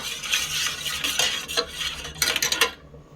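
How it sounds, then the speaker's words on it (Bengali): Chilli and black pepper powder being stirred in a pan, a metal spoon scraping and clinking rhythmically against the pan over a faint sizzle, close and loud, ending in a quick flurry of scrapes before going quiet. "এবার মরিচটা ভালো করে মিক্স করে নিচ্ছি"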